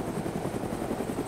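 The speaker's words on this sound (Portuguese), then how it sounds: "tô vendo os três helicópteros ligados" Helicopters idling with rotors running in the video game DayZ, a steady rhythmic whump of blades over a constant engine drone and a thin high whine, close and continuous with no voices.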